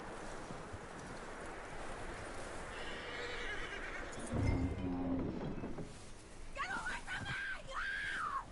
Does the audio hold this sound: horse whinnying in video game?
yes